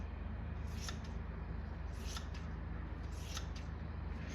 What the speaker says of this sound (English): let's cut a couple strips of this mat so we can put a couple layers on